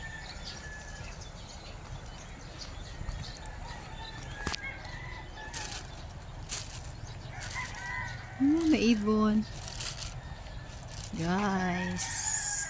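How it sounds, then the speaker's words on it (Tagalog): Fighting roosters crow repeatedly amid outdoor background noise and occasional clucking, with a brief spoken phrase in between, on a boulevard in Sibalom. "Manok na pang sabong."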